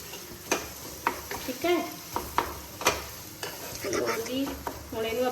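Sweet-sour amla chutney with melted jaggery is stirred and roasted in a pan, giving repeated scraping strokes of a spoon against metal over a soft sizzle, close and irregular.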